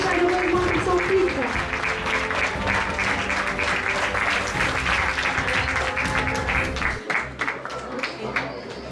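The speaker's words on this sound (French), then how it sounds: "On peut également applaudir chaleureusement pour son fils." Warm applause from the audience at a Miss Photogénie 2024 pageant fills the room, steady dense clapping that runs nearly nine seconds before thinning near the end, with a few voices mixed in.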